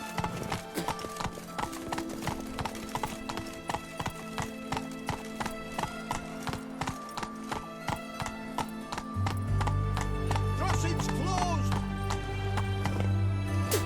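Horse hooves clip-clop at a steady gallop in The Witcher 3 video game, a continuous rhythmic beat under music and ambience, with the ground sound growing heavier toward the end.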